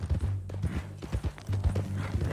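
Horse hooves clip-clop in a steady, brisk rhythm in Red Dead Redemption 2, a new mean-looking horse walking along at close range, the repeated thuds alone with no talk.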